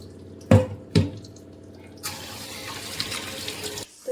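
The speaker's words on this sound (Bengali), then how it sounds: "তো এই যে চিকেনটা আমি আগে ঢেলে ধুয়ে পরিষ্কার করে নিই।" A kitchen tap runs as raw chicken is rinsed in the sink, opening with two loud splashy thumps before a steady rush of water pours, then cuts off near the end; no talking.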